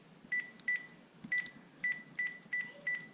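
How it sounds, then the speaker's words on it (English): Phone keypad tones sound as a number is dialed, a series of short evenly spaced beeps, fairly clear over a quiet background with no speech. "now I'm gonna ring my phone and see what happens"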